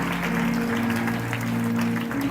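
A congregation claps steadily through a sermon, a continuous wash of hand claps layered over a sustained low droning tone, holding at an even level throughout.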